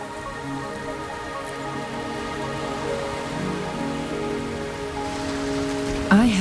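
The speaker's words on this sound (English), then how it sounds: "Are you trapped here by the rain?" Steady rain falls in a scene from the video game Wuthering Waves, a continuous even patter on surfaces under soft sustained musical tones, with a brief bright chime near the end.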